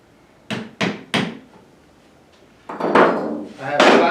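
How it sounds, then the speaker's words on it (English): A hammer taps a metal awl to punch a small indent in wood: three sharp, evenly spaced knocks, then a pause before two louder, longer thuds, close up with no talking. "I have an awl and a hammer. I probably don't need the hammer, but I'm going to use it anyway."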